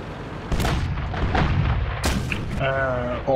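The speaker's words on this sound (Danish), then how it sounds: "Han har skudt og misset" Tank cannon fire in the World of Tanks video game, a few sharp booming shots over continuous engine rumble and game effects, close and loud, with a person speaking over it.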